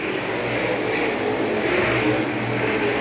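Late model race cars roar together on a dirt oval at a green flag restart, a loud, dense wall of revving engines that stays sustained and steady throughout.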